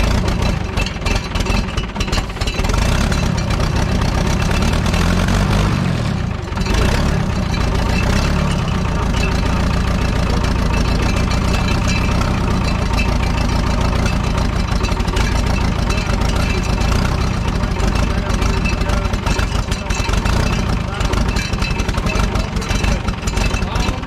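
U302 tractor engine idling steadily and loudly, with a deep, continuous rumble throughout and occasional voices heard over it.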